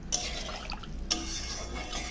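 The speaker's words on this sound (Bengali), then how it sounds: "এখন ঝোল দিয়ে দিচ্ছি।" Fish curry broth poured into a hot pan of fried spice paste, a steady liquid rush with two sharp splashy clinks near the start and middle, close and fairly quiet, with no talking.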